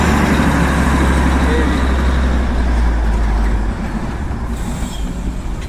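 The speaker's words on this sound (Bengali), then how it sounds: "দেখো আসছে টয় ট্রেন, দারুণ" Darjeeling toy train approaches along a mountain town street, a loud continuous low rumble of the engine and rolling stock filling the scene with traffic noise around it.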